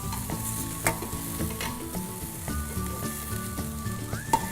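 Thinly sliced vegetables stir-fry in a hot pan for Cantonese-style cooking, a steady close sizzle broken by repeated scraping and stirring clatters of a utensil, with no voices.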